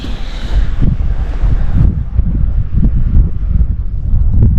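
Strong gusting wind on a snowy mountain at 2100 m in the Slovenian Alps, loud low roaring buffets hitting the microphone continuously and up close.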